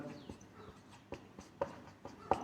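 Pen strokes scratch on paper during a maths lesson, a series of short, close, soft scrapes and taps at an irregular pace, with no talk over them.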